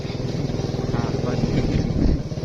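A motorcycle engine hums steadily close by through a long ride on a rural road, its running drone continuous and fairly loud beneath someone speaking.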